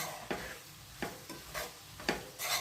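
Poha is stirred and mixed in a pan, a series of scraping sweeps repeating roughly every half second, with a faint sizzle beneath them.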